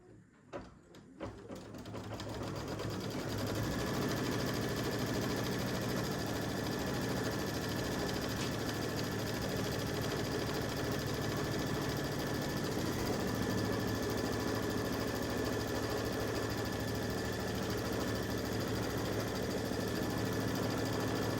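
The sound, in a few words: embroidery machine stitching out tree outline on mug rug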